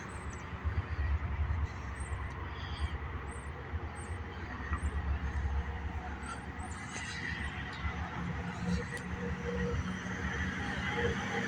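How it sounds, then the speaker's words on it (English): A Buffalo and Pittsburgh freight train rolls past near Punxsutawney, Pennsylvania, a low, steady rumble with repeated high wheel squeals, while onlookers talk nearby. "Here comes the train."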